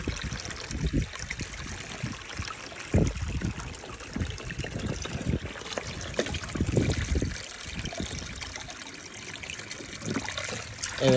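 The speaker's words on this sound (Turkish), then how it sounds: "Şöyle de çeşmemizden suyumuzu dolduralım" Water from a village fountain in rural Kırşehir, Turkey, trickling and splashing into a container outdoors, a steady close pour with irregular gurgling bursts and light wind.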